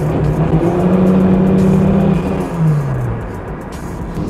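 A turbocharged Lada 2108 pulls hard in second gear, its engine note climbing loud and close as the tyres break into wheelspin, then the revs dip and settle toward the end.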